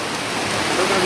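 Rain falls outdoors in Gingoog City as a steady, close, broadband hiss, even and unbroken, with no talk heard.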